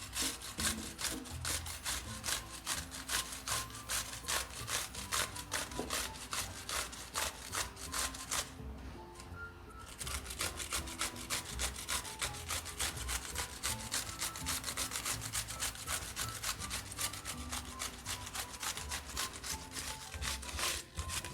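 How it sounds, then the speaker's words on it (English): Fresh cucumbers are pushed across the large holes of a box grater in steady, rapid rasping strokes that repeat close and evenly, with a brief pause partway through before the rhythmic scraping resumes. "I'm going to grate them on the large holes on a box grater until I've got a little bit more than a cup."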